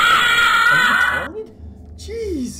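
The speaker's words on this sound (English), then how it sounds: "There's no need to scream that loud." A person screaming loudly at a jump scare while playing a scary horror game, a sharp high shriek at first, then breaking off into short wavering vocal yelps and exclamations, close to the microphone.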